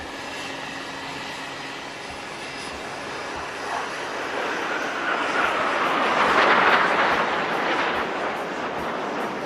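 Indian Air Force jets fly in a V-shaped Victory formation at the Aero India air show. Their broad roar builds steadily, peaks strongly as they pass overhead, then eases slightly while staying loud.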